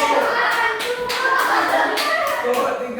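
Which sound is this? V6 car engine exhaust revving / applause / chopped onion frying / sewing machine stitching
applause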